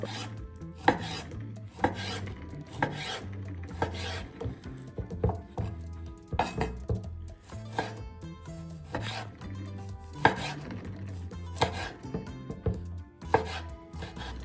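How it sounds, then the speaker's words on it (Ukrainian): A knife chops figs on a board in repeated sharp, close knocks, spaced irregularly about once a second, with soft scraping between strokes. "Відрізаємо ось ці хвостики. Нарізаємо ось так."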